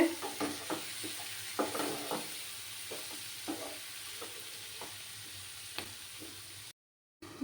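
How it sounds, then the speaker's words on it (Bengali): Spice paste with a little turmeric sautéing for a winter eggplant dish, with a soft steady sizzle and scattered scraping stirs, then a brief silence near the end. "দিয়ে ভালো করে মশলাটাকে কষিয়ে নিতে হবে"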